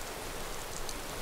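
Rainfall in Skyrim makes a continuous soft patter of drops spread across the surroundings, steady and close with no talking.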